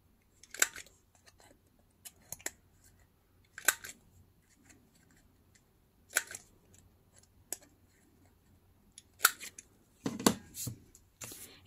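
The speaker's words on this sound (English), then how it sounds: "Again, I'm gonna cut the corners." Sharp snips of scissors cutting the corners of scrap paper for washi labels, a handful of separate crisp close clicks spaced apart in a quiet room, with a couple of quicker cuts toward the end.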